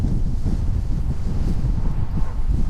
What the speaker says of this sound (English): the wind is coming a little from the left